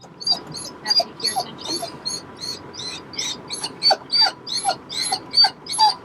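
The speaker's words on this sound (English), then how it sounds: "My dog whines a lot." A dog whines in a van, giving a steady run of high, rhythmic whimpers and yips, about a dozen in quick succession, close and fairly loud with no talk over them.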